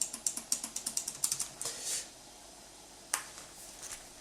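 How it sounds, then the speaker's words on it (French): Quick, light clicks of typing on a white wireless computer keyboard with low-travel keys, a fast run of keystrokes fading into quiet with one isolated tap near the end. "Le clavier, il n'est pas trop bruyant."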